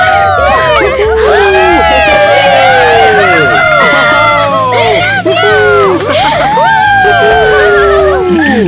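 A dense crowd of young fans screams and cheers nonstop at a school idol's appearance, with shrill, overlapping high-pitched shrieks rising and falling throughout, loud and close.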